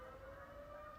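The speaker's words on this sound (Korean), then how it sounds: "경찰차가 막 지나가네" A police car siren passing on a street, a faint steady wail heard from a distance, alone and without talk.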